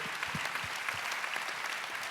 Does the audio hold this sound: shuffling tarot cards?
no